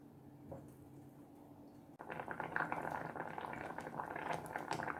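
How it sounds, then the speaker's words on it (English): A pot of fish roe chutney coming to the boil, with a steady bubbling and simmering that grows fuller and louder partway through and then keeps a continuous close rumble. "we're going to bring this to the boil"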